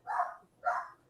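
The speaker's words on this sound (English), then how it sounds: "my dog's barking in the other room" A dog barks from another room, two evenly spaced, muffled barks at moderate volume with no talk over them.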